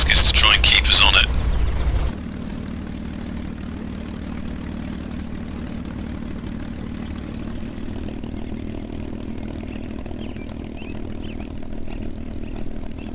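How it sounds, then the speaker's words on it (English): A P-51D Mustang in the A2A flight simulator idles before takeoff on a narrow runway, its steady low engine drone running evenly throughout after a brief louder burst at the start. "Mustang, notoriously sprightly on takeoff, and this is a narrow runway"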